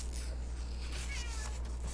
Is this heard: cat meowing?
yes